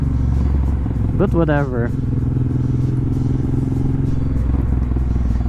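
Honda Transalp built into a supermoto, ridden slowly, its steady engine drone running continuously and close under a rider's brief spoken remark.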